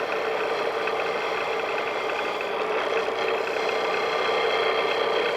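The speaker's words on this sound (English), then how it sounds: "we're going to take it over to the grinder and smooth everything out" A grinder smooths a cast brass dreidel, producing a steady, loud mechanical whine and rattle that runs unbroken and close throughout.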